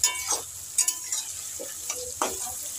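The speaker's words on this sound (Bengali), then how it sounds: "তো আমি বেরেস্তাটা ভেজে নিই" Sliced onions fry in hot oil in a pan for beresta, giving a low sizzle that is broken up by several short scraping stirs.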